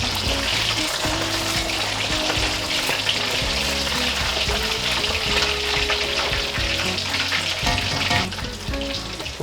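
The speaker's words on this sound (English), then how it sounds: "I'm just going to turn them now so the other side can get fried very slightly. I'll bring it and turn in the oil." Pieces of fish pakora sizzle and crackle continuously in hot oil, fairly loud and close, while music plays underneath and no one speaks.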